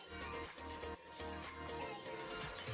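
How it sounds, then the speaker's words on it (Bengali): Pangasius fish pieces, seasoned with salt and turmeric, fry in hot oil over high heat with a dense, continuous sizzle and crackle. "হাই স্টিমেতে আমি সমস্ত মাছগুলোকে ফ্রাই করে নিচ্ছি।"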